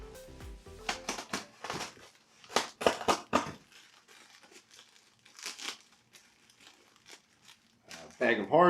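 Close, irregular crinkling of a plastic bag of hardware from an E-flite Cirrus SR22T model airplane kit being handled, in bursts of rustling with pauses, and a voice talking near the end.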